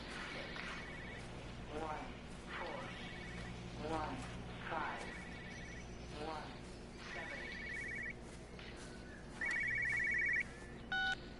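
Telephone ringing in the video game Everybody's Gone to the Rapture: repeated electronic trills in short bursts over a low ambient hum, with a voice talking faintly underneath.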